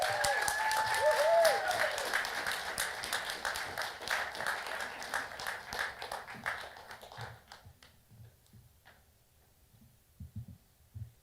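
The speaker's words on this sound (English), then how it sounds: "I know you're going to give him a huge round of applause" A live storytelling-night audience claps loudly for a storyteller coming to the stage, the applause thinning and fading over several seconds into a few scattered claps and thumps near the end.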